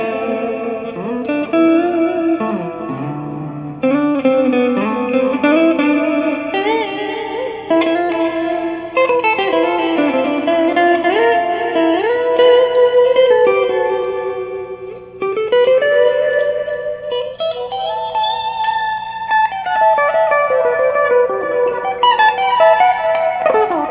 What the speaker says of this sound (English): the reverb setting or verb setting.